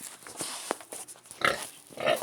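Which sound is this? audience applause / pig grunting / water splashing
pig grunting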